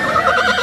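Horses whinny continuously at a large horse market during a temple festival in Anthiyur, a clear, fairly loud neigh with a wavering pitch that lasts the whole moment, with no talk over it.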